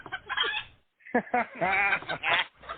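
Chicken clucks and squawks come in quick close bursts with a short pause partway, loud and alone with no talk over them.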